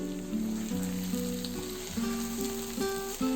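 Eggs are slowly stirred in a hot frying pan while making egg pickle; an even frying sizzle runs throughout beneath steady background music.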